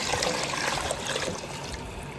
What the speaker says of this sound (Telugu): దీంట్లో మనం మటన్ స్టాక్ని వేసుకుందామండి